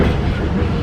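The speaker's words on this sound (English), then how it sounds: "We are just on the train to Disney." A train heading to Disneyland Paris rumbles loudly from inside the carriage, with a low, continuous roll and faint wheel clatter over a brief moment.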